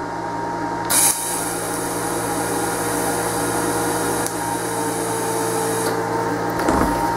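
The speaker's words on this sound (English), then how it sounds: "I'm at 105 amps right now, so we're just going to put a lot of heat in it and just kind of fuse the two pieces of metal to each other" Steady electric arc welding hiss and crackle at 105 amps, fusing two pieces of metal while fabricating a custom wrench tool, continuous and close with brief louder bursts near the start and end.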